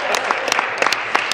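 Legislators clap in a parliamentary chamber during Question Period, a loose scattering of sharp individual claps over a murmuring room, uneven and somewhat close.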